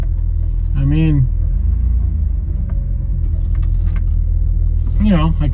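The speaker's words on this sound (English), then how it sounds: "just driving now." A car driving on a road at night, its engine rumbling low and steady throughout, with someone talking over it.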